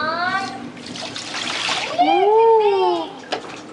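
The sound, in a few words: water being poured over a baby during a bath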